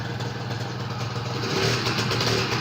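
A Honda Nova Tena four-speed motorcycle with a reworked clutch runs steadily close by as it is put into gear and the clutch is released, its engine note rising slightly and holding firm without stalling.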